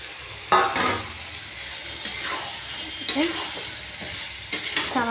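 Cauliflower and fried potatoes are stirred in spiced oil in a pan: a soft, continuous sizzle broken by several sharp scraping stirs and clinks of the spoon against the pan.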